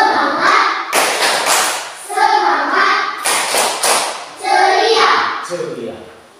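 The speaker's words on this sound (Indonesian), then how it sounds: "Kita tepuk semangat." A classroom of children performs a rhythmic group clap chant, with bursts of synchronized clapping and thumping between chanted voices that drive the rhythm.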